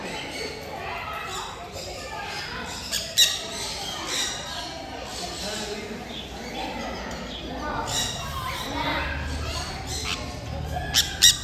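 Macaws squawk in bursts at an exotic park in Tirupati, harsh calls standing out over steady crowd chatter and outdoor noise.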